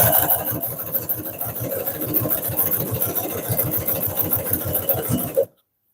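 Consew CP206RL industrial sewing machine stitching a handbag, a loud, close, rapid even chatter of needle strokes running steadily for over five seconds before stopping abruptly into silence.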